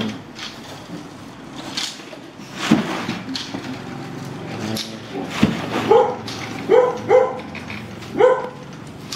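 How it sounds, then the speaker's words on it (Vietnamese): A dog barks repeatedly at a rural Vietnamese household where traditional sedge mats are woven, sharp yips and barks coming in bursts toward the end over background room noise and faint voices. "Đấy, con kia nó cứ sủa."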